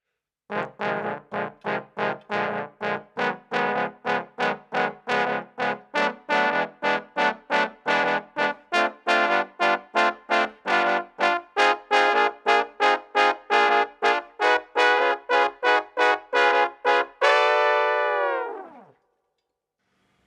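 Trombone chords move from a minor seventh to a dominant seventh, voiced as a rapid string of short, evenly spaced notes that settle into one sustained chord before fading out.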